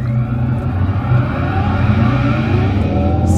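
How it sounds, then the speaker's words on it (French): A synthetic engine-like drone hums and slowly rises in pitch, loud and continuous, resembling a revving motor with no speech: the simulated engine sound of an Alpine A290 electric car. "ça simule déjà comme si un moteur thermique était dans les tours"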